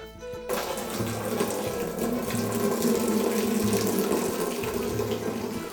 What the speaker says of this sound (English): That way when Peter opens the spigot and transfers it from here into the fermenting bucket